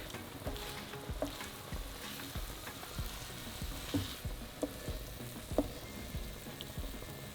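Eggs fry in a pan over medium heat as the yolks are broken and stirred, giving a quiet, continuous sizzle with soft scraping taps from the utensil.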